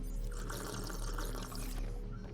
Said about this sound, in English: I guess I'll get the water, and I'll just put it in my water and salt holder.